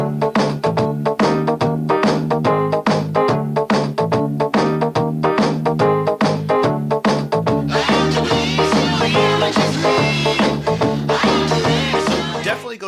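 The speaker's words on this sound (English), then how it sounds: "a track that's built with maybe a Casio keyboard with the drums that are built into that" A lo-fi song plays continuously, with tinny built-in Casio keyboard drum beats driving steadily under guitar, and a brighter, denser strum filling in over the second half.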